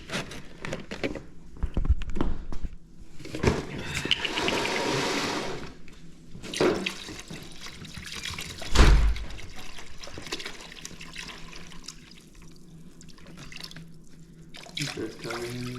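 Vinegar pours into a container in bursts of close, splashing liquid, with pauses and clunks between them, while a person talks now and then.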